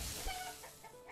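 Chickens clucking in the medieval city-building game Manor Lords, a soft, brief burst of fowl chatter in a noisy ambient mix with no talk.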